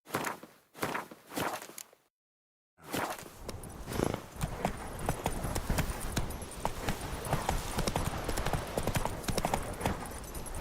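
Horse hooves clip-clopping in The Witcher 3: a few separate hoof thuds, a brief silent gap, then a steady fast run of close, loud clip-clops carrying on to the end.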